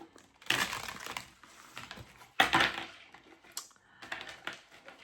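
A tarot card deck decorated with roses being shuffled by hand, giving several bursts of crisp riffling and flapping card noise separated by short pauses, close and fairly quiet.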